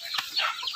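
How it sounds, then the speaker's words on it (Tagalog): Native chickens give a brief, close cluck, a single short call and a faint follow-up that are over in under a second. "Mga native po ito na manok."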